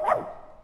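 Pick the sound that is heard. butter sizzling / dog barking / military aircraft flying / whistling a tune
dog barking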